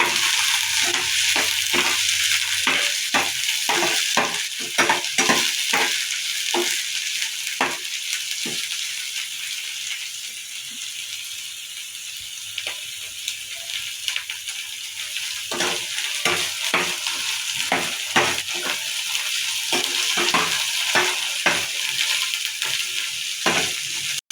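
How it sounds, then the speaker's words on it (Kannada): Finely chopped radish stalks fry in a pan with a bright, continuous sizzle, while a spoon scrapes and clatters against the metal in quick, irregular strokes, close-up with no talking. "ಈಗ ಇದನ್ನು ಸ್ವಲ್ಪ ಮೆತ್ತಗಾಗ ಸ್ವಂತ ಹುರಿಬೇಕು"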